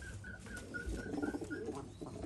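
Pigeons in a fancier's loft, among them a black-tailed hen, give faint, low, throaty coos mid-clip, with a repeating higher chirp or squeak above and no talk.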